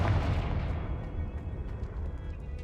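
A Confringo blasting spell exploding in Hogwarts Legacy, a heavy booming blast that rolls and decays over a couple of seconds, loud and close with no talk over it.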